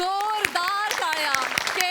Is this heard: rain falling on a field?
no